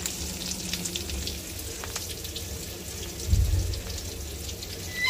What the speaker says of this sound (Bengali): আর এই যে দেখেন বেগুনটা মাশাআল্লাহ ভাজা হতেছে।